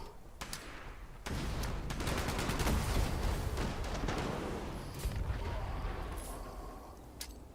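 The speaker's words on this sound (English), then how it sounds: "Now fire. A full clip." A gun in Fallout 76 empties a full magazine in one long, loud, unbroken stream of rapid shots, with a few sharper cracks near the start and the end.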